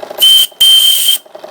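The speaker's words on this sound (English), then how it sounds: "Here's the whistle." Steam whistle on a small live-steam St.Bat engine running at about 35 psi, two loud shrill blasts close by, a short one then a longer one, alone without talk.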